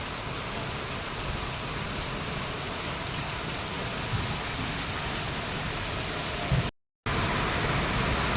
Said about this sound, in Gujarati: વરસાદ વધતો જાય છે અત્યારે